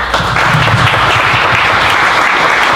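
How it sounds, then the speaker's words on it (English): Loud, steady applause from a crowd at a men's health charity event, close and continuous with a few voices underneath. "please give them a round of applause"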